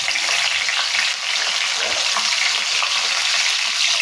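Mustard seeds, urad dal, cumin, peanuts and curry leaves fry in hot oil for upma, giving a steady, close, loud sizzle with light crackling and no talking.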